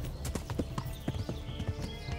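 Rhythmic clip-clop of horse hooves at a trot in the video game Kingdom Come: Deliverance, steady and fairly close, with no voices.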